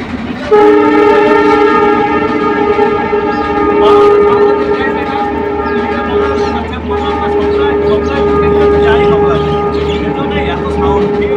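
A train passes close by with a loud, sustained horn blast over a heavy rumble of rolling wheels and carriages, steady throughout.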